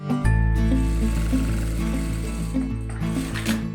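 A Sun Special industrial straight-stitch sewing machine running a test seam on faux leather, a steady close mechanical hum with rapid needle chatter and slight speed shifts, heard on its own.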